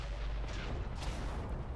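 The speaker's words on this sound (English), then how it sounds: "he shows off the wonderful new Xbox One explosions for us beautifully" A tank explodes in World of Tanks on Xbox One with a dull, rumbling boom that lingers as a faint, distant low roar, with no voices over it.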